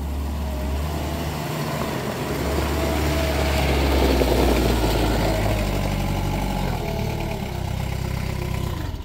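A 2006 Moffett M55.4 four-way truck-mounted forklift engine idling, a steady loud low rumble that holds evenly throughout with no voices.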